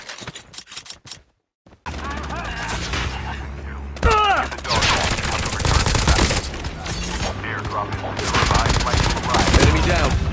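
Rapid gunfire from the Call of Duty video game comes in loud, dense bursts, broken by a short silence and mixed with sharp mechanical clicks and thuds.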